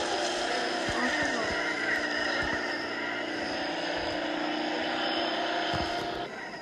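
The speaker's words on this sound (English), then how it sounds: "There's a helicopter here." A helicopter in the video game Jailbreak, a continuous engine drone, steady and fairly loud throughout, easing off slightly at the very end.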